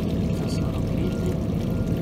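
Liquid pours steadily into a Horsch Pronto seed drill, a continuous close gurgling stream lasting about two seconds with no talking over it.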